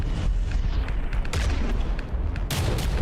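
A proximity explosion in a video game sets off dense, booming blasts over a continuous loud rumble, with sharper bursts toward the middle and end.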